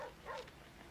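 A single short, faint dog yip or bark, brief and somewhat distant, over a soft background.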